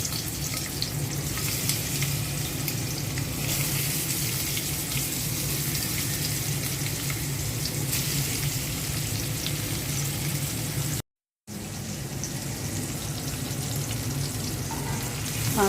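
Sarpunti fish frying in hot oil in a frying pan, a loud continuous close sizzle and crackle that carries on unbroken apart from a brief cut, with no talk.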